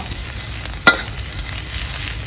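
Rice vermicelli stir-frying in a hot pan with little oil, a steady close sizzle broken once by a sharp scrape of a utensil against the metal.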